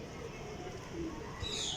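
Pigeons coo softly on a rooftop amid a busy outdoor background, with faint chirps rising near the end and a low murmur of voices underneath.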